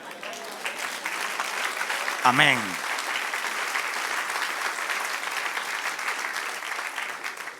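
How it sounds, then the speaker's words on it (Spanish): Congregation applauding during a church service, sustained clapping spread across the room with a brief spoken word cutting in near the start. "Dale un aplauso, Señor."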